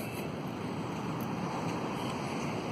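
Ocean waves and wind at Porto de Galinhas beach in Brazil roar as a loud, dense wash of surf with constant wind buffeting the microphone, no voices over it.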